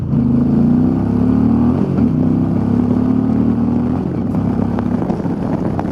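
An Indian Challenger motorcycle, a heavy 840-pound bike, idles and revs its engine with the throttle, a loud, steady low droning growl close by that rises slightly and then settles, with a few small clicks near the end.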